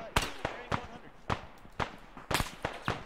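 Gunfire in the military shooter game Arma 3: a run of sharp, cracking shots at irregular intervals, some doubled in quick pairs, each decaying quickly into a light background.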